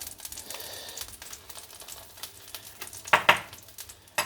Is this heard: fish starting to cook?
yes